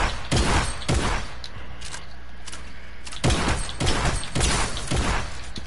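Rapid SMG bursts and heavy shotgun blasts in a multiplayer shooter game, dense and loud, clustering in two volleys with near-continuous firing between them.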